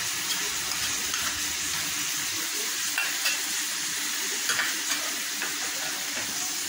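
Vegetable filling with soy sauce and ketchup is stirred in a pan, giving a steady soft sizzle and scraping that carries evenly at moderate volume, with no talking.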